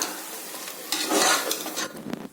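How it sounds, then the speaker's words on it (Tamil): Shallots and chicken fry together in a pan, a close sizzle rising as they are stirred, with scraping of a spoon against the pan and a few light metal clinks near the end. "ஆட் பண்ணி நல்லா கலந்து விட்டுருங்க இது ஒரு அஞ்சு நிமிஷம் அப்படி நல்லா வதங்கட்டும்"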